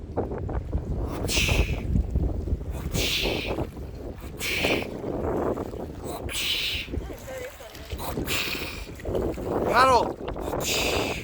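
Canoe paddles dip and pull through the water in a slow, repeating rhythm on a river trip, with wind buffeting the microphone and occasional splashes.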